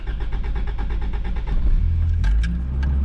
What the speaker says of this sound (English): Let's go ahead and start the car. First start.